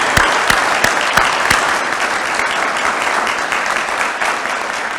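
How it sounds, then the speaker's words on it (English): A large audience at a business awards luncheon breaks into loud, sustained applause, a dense wash of clapping with a few sharp individual claps standing out at the start. "So give those ladies a big round of applause."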